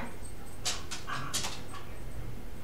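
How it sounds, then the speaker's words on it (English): A dog whimpers and lets out a few short yips and barks at close range, a handful of high-pitched bursts over a steady background hum, with no talking. "I don't know why she's barking."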